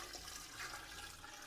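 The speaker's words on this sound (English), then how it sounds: "I'll be adding in also 1 liter of water." Water poured into a soup pot for a Chinese abalone and winter melon soup, a steady rushing liquid stream heard close and alone, fairly quiet.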